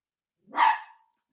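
A dog lets out one short, sharp bark at moderate distance, alone in otherwise quiet surroundings.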